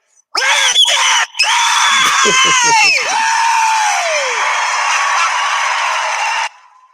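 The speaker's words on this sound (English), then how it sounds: "Let's hear a debt-free scream" A loud, sustained high-pitched scream of celebration after paying off debt, starting abruptly and holding for several seconds with wavering pitch, crowd noise and other voices briefly breaking through before it fades.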